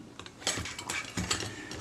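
Quiet mechanical clicks and small metallic ticks of a Braun Paxette camera shutter being cocked by rolling a gear forward, several light snaps in quick succession.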